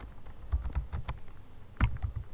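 Keys on a computer keyboard tap in short irregular bursts, close and fairly quiet, with a cluster of louder strokes near the end and no one talking.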